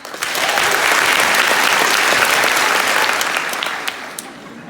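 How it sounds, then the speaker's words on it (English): Graduation audience clapping steadily and densely for several seconds, a sustained, fairly loud wash of applause that tapers off near the end. "Let's give them all 10 claps."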